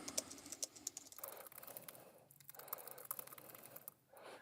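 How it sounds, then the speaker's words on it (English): Commands being typed on a computer keyboard in a Linux terminal, a quiet, close run of irregular key clicks with short pauses between bursts. "I'll type save, and I'll type quit"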